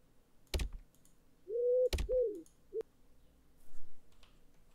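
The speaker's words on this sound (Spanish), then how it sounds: "Ah, una paloma mensajera." Carrier pigeon cooing in the WWI survival horror game Conscript: two short, soft, rounded coos and a brief chirp, spaced between sharp clicks and thumps, in an otherwise quiet scene.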